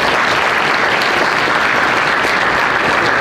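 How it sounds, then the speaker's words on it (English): A high school athletic banquet audience in Arkansas breaks into steady, dense applause, loud and continuous throughout with no pauses or talk over it. "So give her a round of applause."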